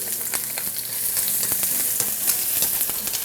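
Scallions and garlic fry in hot oil to make scallion oil for yakisoba, a loud close crackling sizzle with frequent sharp pops and spatula taps, no speech.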